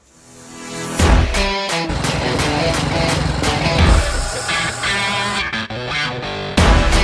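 A small Briggs & Stratton lawnmower engine, being converted for a pit bike, roars loudly and continuously, its pitch shifting as the throttle rises and falls, with a brief drop near the end.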